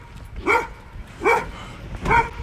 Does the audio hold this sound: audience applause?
no